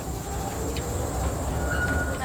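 A London Mail Rail underground train runs along its narrow-gauge track in a tunnel, giving a steady loud rumble with wheel noise and a faint squeal partway through, with no talk.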